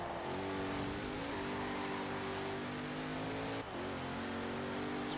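A 2016 Zenvo ST1 with more than 1,000 horsepower revs in the racing game Forza Horizon 3. The engine drones loudly and steadily, climbing and shifting through gears with a brief dip midway, and no talk.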